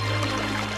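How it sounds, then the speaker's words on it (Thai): Water rushing and flowing beneath a rock slab, heard close up as a steady, fairly loud gushing stream with no talk. "เสียงข้างล่างตรงนี้มันเสียงน้ำนี่ใช่แล้วเสียงน้ำไหลมากมายเลย"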